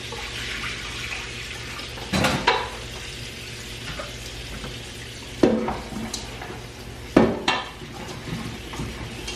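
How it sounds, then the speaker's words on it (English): Water running and draining in a kitchen sink after rinsing peeled sweet potatoes, a steady wash of flow with a few sharp clanks of pots or dishes, close by and no talking. "Drain that water."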